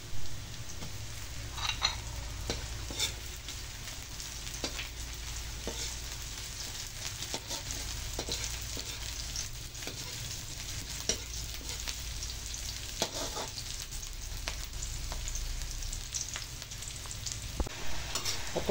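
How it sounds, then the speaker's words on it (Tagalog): Garlic, onion, ginger, green chili and chicken sauté in a pan for spicy chicken soup, giving a steady close frying sizzle with intermittent clinks and scrapes from stirring and no talk. "ginisa na natin yung bawang, sibuyas, luya, at siling green, and the chicken"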